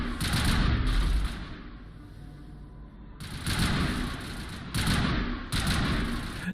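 Gunfire in the video game Mass Effect with the audio running out of sync, loud bursts of shots in three separate volleys with quieter rumbling gaps between them.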